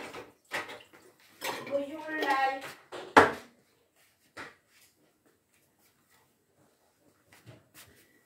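Dishes and cutlery clink and clatter in a home kitchen after making a salad, a series of scattered clatters including one sharp clang, mixed with talking.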